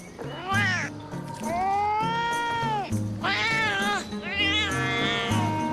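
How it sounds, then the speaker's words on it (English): A cat in the video game Metal Gear Solid: Peace Walker meows in long, drawn-out, rising and falling cries, several in a row, loud and continuous over a steady synthetic game backdrop. "A talking cat."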